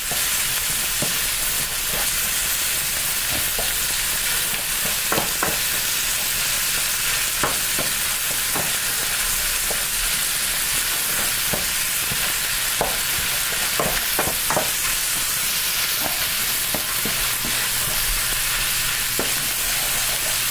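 Ground meat and onions brown in a hot pan for chili with a steady, dense sizzle throughout, punctuated by scattered scraping clicks of a utensil stirring, close and without talk.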